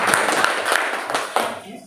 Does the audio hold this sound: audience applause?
yes